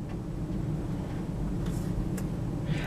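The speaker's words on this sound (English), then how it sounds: "if you can hear a humming in the background, my craft room unfortunately is right next to the heater closet" A low, steady hum drones continuously in the background, muffled and even, with a few faint clicks on top.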